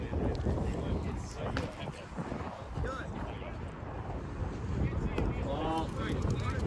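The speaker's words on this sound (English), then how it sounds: "Wind's starting to pick up as well." Steady wind buffets the microphone outdoors at a baseball game, a continuous low rumbling gust noise running throughout, with a voice talking over it.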